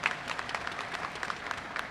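Audience at a university honors convocation applauding, a quiet, fairly distant patter of many hands clapping steadily throughout, with no talking over it.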